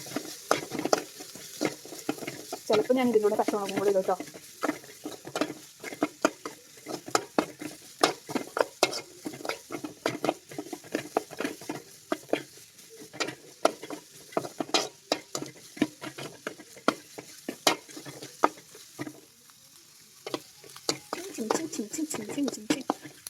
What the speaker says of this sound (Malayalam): ഇനി ഇതൊന്ന് വാടണ വരാൻ ഇളക്കി കൊടുക്കാം